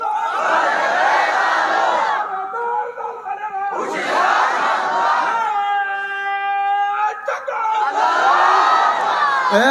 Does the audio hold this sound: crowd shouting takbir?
yes